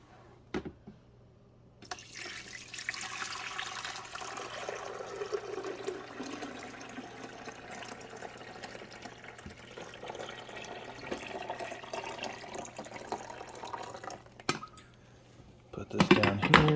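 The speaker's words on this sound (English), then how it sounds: "Now I'm going to pour this in the back where we would put the water." Vinegar and water pour steadily into the water reservoir of a 14-cup coffee maker for over ten seconds, a continuous splashing hiss, close by, ending with a few clunks.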